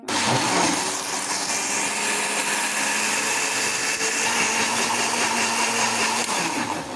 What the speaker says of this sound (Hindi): तो अब ब्लेंडर को ऑन करते हैं।